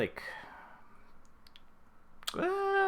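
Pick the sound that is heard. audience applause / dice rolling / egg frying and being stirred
dice rolling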